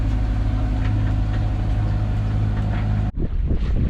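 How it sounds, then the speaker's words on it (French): A sailboat runs under engine power off the coast of Senegal, its motor droning steadily and loudly with wind noise, then briefly dropping out near the end. "on est au moteur"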